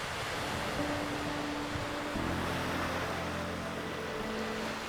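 Waves wash steadily onto a sandy beach in Senja, Norway, a continuous hissing surf with a faint low motor hum in the background and no voices.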